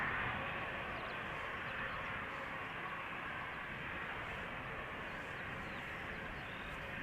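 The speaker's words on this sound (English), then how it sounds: "So this Embraer 190 outbound to Palma de Mallorca, 13 years old, first flight January 2010." Embraer 190 jet departing Amsterdam Schiphol runway 36L, a steady broad engine roar held at constant level throughout, fairly distant and faint.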